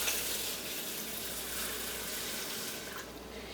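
Water is poured steadily into a rice cooker bowl holding brown rice, making a continuous close splashing rush that lasts the whole moment and eases slightly at the end.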